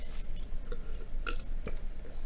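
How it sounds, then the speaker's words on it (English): A single short belch from a person, close and fairly loud, over a low background rumble with no talking. "I'm burping a lot today."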